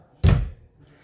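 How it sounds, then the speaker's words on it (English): The shower door in a Nobel Art A8000 Elegance motorhome shuts with a single short, close thud that fades quickly. "Not much room to get the shower door open."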